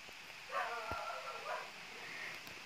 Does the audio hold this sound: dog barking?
yes